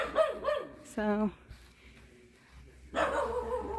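A small dog barks a few sharp, close times in a home garden, with someone speaking briefly around the barks.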